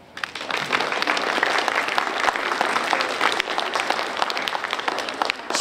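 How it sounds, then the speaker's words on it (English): Audience applause at a fifth-grade class presentation on the American Revolution, loud and dense, swelling in quickly and holding steady throughout, with no talking. "A round of applause."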